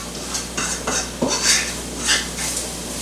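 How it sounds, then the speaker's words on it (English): Hamburger and onions are stirred in a pan as beef broth and sherry go in, giving a series of soft scrapes and clinks against the pan over a gentle background hiss. "Gradually mix in beef broth and sherry."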